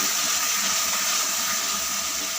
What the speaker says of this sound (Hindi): पानी थोड़ा सा और ऐड करेंगे